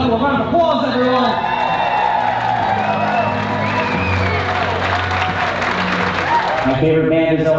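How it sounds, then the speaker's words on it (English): Wedding reception guests applaud and whoop as a newly married couple is introduced. The dense, loud wall of clapping and cheering runs the whole time, with a voice and music-like tones layered on top. "Give a little couple of round of applause"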